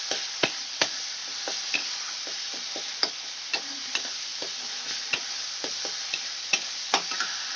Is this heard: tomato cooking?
yes